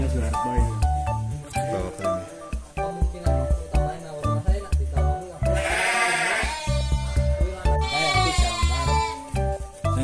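Merino sheep, an Australian breed raised on a farm in Dieng, Banjarnegara, bleat in two wavering cries midway through, under and between steady nearby conversation.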